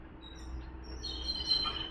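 Sparrows chirping close by, thin high tweets scattered over a low background rumble with no talk.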